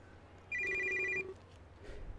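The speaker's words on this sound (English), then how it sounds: "My phone vibrates" A phone buzzes and chimes once in a video game, a short electronic ring pulse lasting under a second over a faint background hum.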